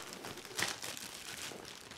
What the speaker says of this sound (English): the tripod comes already wrapped in a plastic bag with some silica gel in it.